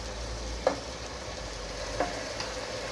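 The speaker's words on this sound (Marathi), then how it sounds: "आता आपलं आपण मटण टाकूया याच्यात" Mutton pieces drop into frying onions for black mutton curry, setting off a steady low sizzle with two brief clatters as the meat goes in; no one speaks.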